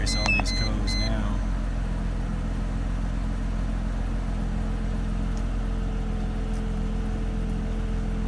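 A flood-damaged 2004 Mercedes SLK 320 sounds a few electronic beeps at the start and then runs at a steady, even idle with a low engine hum, with voices present.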